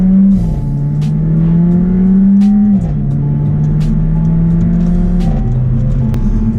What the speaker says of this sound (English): today I'm going to launch my car using launch control for the first time